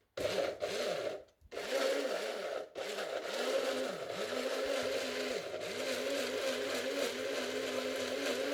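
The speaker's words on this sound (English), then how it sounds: "Next we'll add some water and then blend." A blender whirs steadily at close range, its motor pulsing and churning papaya and water, with a couple of brief stops near the start.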